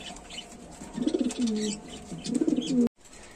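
Danish pigeons, a pair nesting on eggs, coo at close range in two rolling bursts of throaty calls against faint background noise, ending abruptly.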